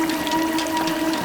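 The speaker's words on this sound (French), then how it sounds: "La douche." A shower runs with a steady, even hiss of falling water and a faint hum beneath it, continuous and fairly close, with no voices.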